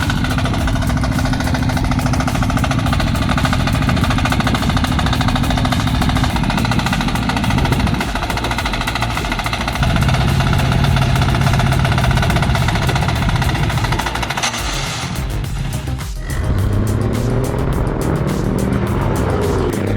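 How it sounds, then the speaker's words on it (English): A tractor loaded with heavy rice sacks revs hard while stuck deep in mud on a bad road, its engine roaring loud and steady throughout, wheels churning, with a brief dip and shift in tone near the end. "His tractor loaded with rice was stuck deep in the mud on this terrible road"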